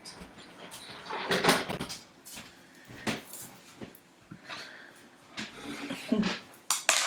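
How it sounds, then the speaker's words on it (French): An office door is closed indoors: several soft thumps and handling noises spread over a few seconds, fairly quiet, with light rustling in between. "je vais juste fermer la porte de mon bureau"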